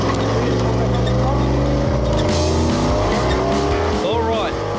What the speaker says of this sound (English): Time to step on the gas and get things motoring.